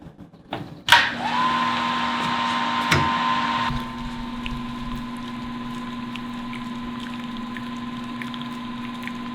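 Pump moving hot sparge water from the hot liquor tank during a New England IPA brew day, starting with a clunk and surge, then a steady electric hum with gurgling flow; no talking.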